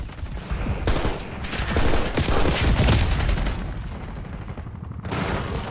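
Dense gunfire from the video game Call of Duty: Black Ops 6 rattles in continuous overlapping bursts, loud and close, easing slightly toward the end with a brief lull before a final burst.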